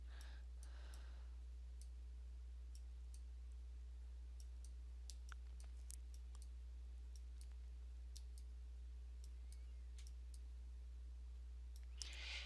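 Computer mouse clicking while dragging elements in home design software, a sparse scatter of faint, crisp clicks at irregular intervals over a low steady hum, with no talking.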